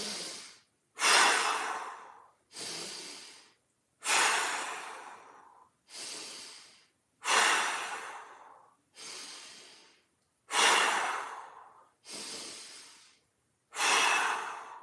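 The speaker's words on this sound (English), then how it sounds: "5 big breaths." A person takes ten deep breaths during a mobility exercise, lying in a neutral pelvic position. Each breath is a loud, close, airy inhale or exhale, separated by short pauses, in a slow, even rhythm with no talking.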